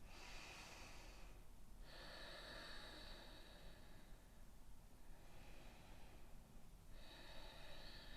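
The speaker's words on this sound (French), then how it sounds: "Ma respiration Ujjayi qui s'active par le fond de ma gorge." Slow, deep Ujjayi yoga breathing drawn through the nose and constricted throat, heard as soft, breathy hissing swells with two brief pauses between long inhales and exhales, close and steady at low volume.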